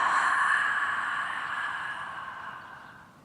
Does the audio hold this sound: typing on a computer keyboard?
no